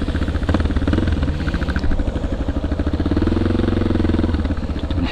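Motorcycle engine running steadily and close during a pylon slalom lesson on a timed straight course of fifteen cones, with a continuous mid-pitched drone and slight throttle changes throughout.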